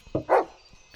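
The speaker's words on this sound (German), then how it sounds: "Das ist der Hund." A dog in the horror video game Blair Witch gives two quick, close barks in a row, the second fuller and louder, followed by near silence.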